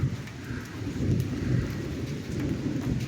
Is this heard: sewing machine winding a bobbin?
no